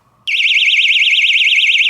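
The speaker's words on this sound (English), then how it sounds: "he got me this door stopper / alarm system situation" A door stopper alarm bursts on after a brief quiet and holds a loud, piercing, warbling electronic siren close by, with no pause.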